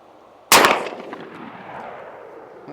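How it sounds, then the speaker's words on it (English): Beretta 1301 shotgun firing a large slug at a bullseye target about 40 yards out on a range, a single loud close blast with a long fading echo. "So we're back at about, we'll call it 40-ish yards or something like that, and I'll shoot top bullseye with this one."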